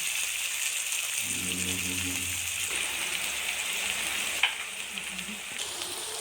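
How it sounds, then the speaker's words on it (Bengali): Onion and garlic frying in a pan for Bengali chicken curry: a continuous, even sizzle with a faint low hum early on and one sharp utensil clink partway through. "পেঁয়াজটা দিয়ে দিলাম, রসুন দিয়ে দিলাম,"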